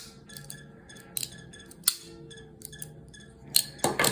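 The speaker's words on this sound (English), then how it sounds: "The sound of the Benchmade 940 is always awesome. It's just got that deep clack." A Benchmade 940 folding knife snapping shut with a deep clack, several sharp clicks and clacks close up over a quiet background, with a louder cluster near the end.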